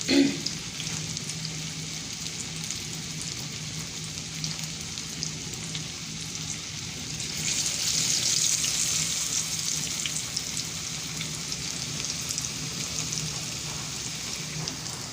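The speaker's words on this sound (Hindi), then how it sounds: "तो 3 से 4 मिनट एक साइड से आप फ्राई करेंगे" Marinated fish, Lahori style, fries in hot oil with a steady, rain-like crackling sizzle that swells louder midway and holds throughout.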